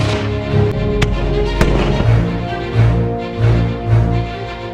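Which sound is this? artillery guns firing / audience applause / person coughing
artillery guns firing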